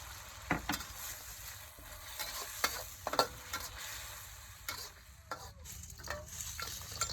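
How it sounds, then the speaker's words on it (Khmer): Chicken stir-fried with salt and chili in a pan, a steady quiet sizzle under repeated scraping strokes of a spatula, close by, with no talk. "យើងកូរត្រឡប់តាមសន្ទុះទៅ"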